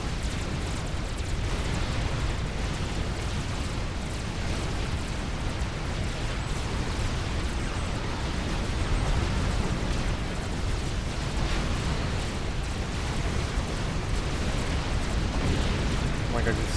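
Tech 3 artillery shells pound the battlefield in Supreme Commander, making a dense, continuous roar of rumbling explosions that never lets up.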